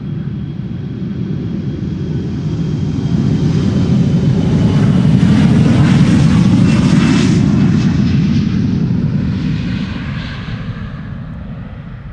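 An Embraer 175 jet at Schiphol Airport swells into a loud engine rumble and whine that peaks midway and then fades as it passes.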